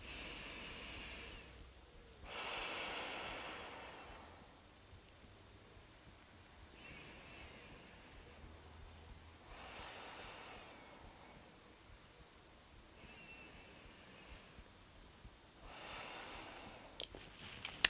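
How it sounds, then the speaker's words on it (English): Slow, deep breaths in and out through the nose during a yoga class, several soft airy hisses separated by quiet pauses, close and faint. "take 3 more deep breaths in and out through the nose"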